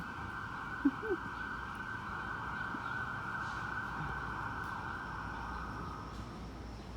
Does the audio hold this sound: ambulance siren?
yes